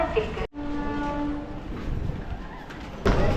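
A train horn sounds briefly, then a rumbling rail roar continues as a train departs Tambaram railway station toward Chennai Beach, with a sharp clunk near the end.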